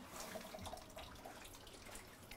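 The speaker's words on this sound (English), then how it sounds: "so now I will drain the water" Water drains steadily from a plastic bathtub during a plumbing inspection, a continuous soft gurgling rush with faint watery detail throughout, fairly quiet and without speech.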